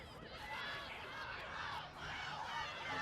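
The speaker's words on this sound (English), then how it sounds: "You hear the crowd here in Sabercat Stadium starting to get riled up" Crowd at Sabercat Stadium during a women's Division II rugby national semifinal, a faint distant roar of cheering and shouting that swells and dips.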